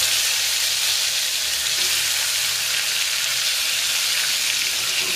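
Brinjal pieces fry in hot oil with cumin and mustard seeds for a traditional Maharashtrian black-masala vegetable dish, a loud, steady, close sizzle that hisses on without break and with no voices.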